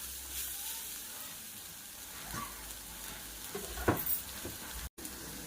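Onions frying in oil for egg curry, turned golden brown with fresh curry leaves in the pan, giving a soft steady sizzle close by, with a few brief stirring clinks and scrapes.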